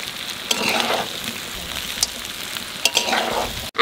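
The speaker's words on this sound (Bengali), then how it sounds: "এখানে আলু আর ইঁচড় দিয়ে আর একটু কষাবো" Potato and raw jackfruit sautéing in a pan, with loud sizzling bursts and scraping stirs recurring every second or two, close and alone without talk.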